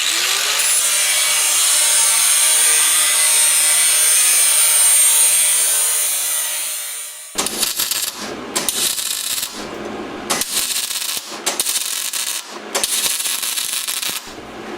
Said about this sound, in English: We're gonna go for a slow motion spark grind.